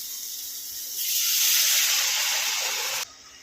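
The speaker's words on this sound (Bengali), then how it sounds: "এবার দিয়ে দেবো জল" Water poured into a hot cooking pot for a hilsa fish curry sets off a sudden loud hiss of steam that holds for about two seconds and then cuts off sharply.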